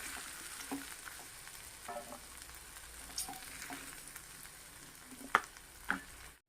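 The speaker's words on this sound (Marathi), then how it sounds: "तर हे परतून घेऊया भाज्या छान परतून झाल्यात" Mixed vegetables being sautéed in a kadhai give off a steady sizzle, with scattered scraping and clinks from the spatula and two sharper knocks near the end, and no voices.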